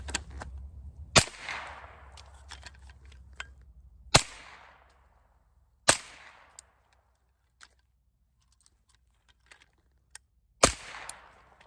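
Four sharp suppressed gunshots of 115 grain ammunition through a custom barrel, each a loud close crack with a short decaying tail, fired at uneven intervals with quiet gaps and faint clicks between.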